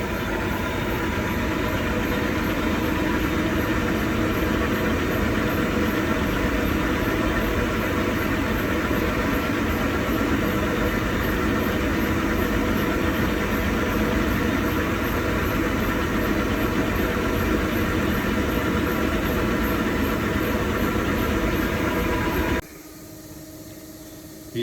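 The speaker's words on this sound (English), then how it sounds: "We've got a crank on our machine, getting it in balance" A crankshaft spinning on a balancing machine in an engine workshop, a steady loud mechanical whir and rumble with a high whine running continuously, cutting off abruptly near the end.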